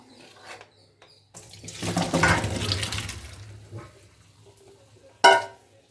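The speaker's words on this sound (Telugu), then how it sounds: "వడిగట్టేసిన తర్వాత ట్యాప్ తిప్పేసేయండి చన్నీళ్ళతో." Cold tap water runs over strained potatoes in a kitchen sink while preparing crispy potato fry, a splashing gush of a couple of seconds that then tapers away, with a short sharp splash near the end.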